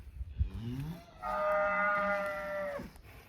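A cow on a farm gives one long, drawn-out moo after a brief lower grunt. The call is close, loud and clear, and no voices are heard.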